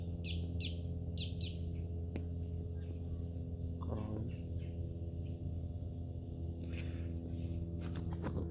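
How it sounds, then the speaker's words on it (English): Birds chirping outdoors, a few short, bright tweets in quick bursts near the start and more scattered calls later, fairly faint over a steady low background hum. "There's 2 birds up there. A little bird and a big bird."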